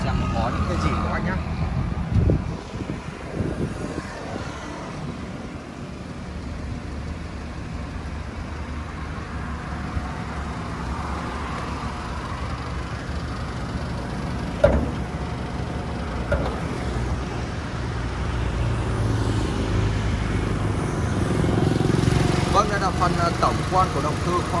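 The 1.4-litre engine of a 2012 Hyundai with a manual gearbox idles steadily in an open engine bay, a continuous low rumble heard close up, with a few clicks and knocks over it.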